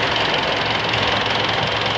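Mitsubishi Montero GTV engine idling after a crankshaft sensor replacement, once troubled by hard starting and a check engine light; a steady, even, close-up mechanical hum with no talk over it.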